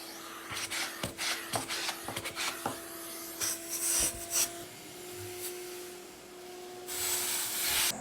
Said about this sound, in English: I just re-hit everything with 220 to kind of feather it all out.